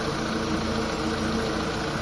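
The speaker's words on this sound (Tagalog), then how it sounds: "Hindi namatay yung makina, umiikot siya." A Mitsubishi Lancer engine idles steadily with its negative battery terminal disconnected, giving a close, even hum with a faint mechanical vibration and a constant high-pitched whine. No one speaks.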